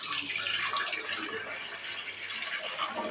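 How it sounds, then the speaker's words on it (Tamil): Water is poured from a jug into an idli steaming pot on a stove, a soft steady splashing and trickling for a few seconds. "ஒரு சொம்பு தண்ணி ஊற்றிக்கலாங்க."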